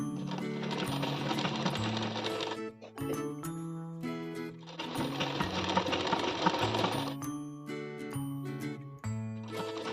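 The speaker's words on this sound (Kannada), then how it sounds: "ನಾನು ಸ್ಟಿಚ್ ಮಲ್ತೊಂದುಲ್ಲೆ." A sewing machine stitching a pillow cover in quick, clattering bursts, running steadily for a few seconds, pausing briefly, then stitching again, close and clear with no voices.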